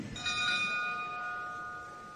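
A boxing ring bell rings out to start a bout at a live undercard fight show, a single clear metallic strike whose tone sustains and slowly fades for about two seconds.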